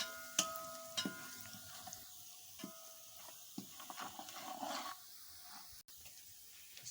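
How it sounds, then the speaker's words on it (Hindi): Spices with red chili and turmeric frying for chana pulao in a pot outdoors, a soft sizzle with scattered clicks and light taps of a stirring spoon, quiet and close, with no talking. "इसके अलावा हल्दी शामिल कर दिए। और इसको अच्छी तरह से भून लेंगे।"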